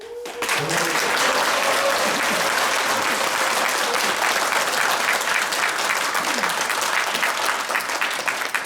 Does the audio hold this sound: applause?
yes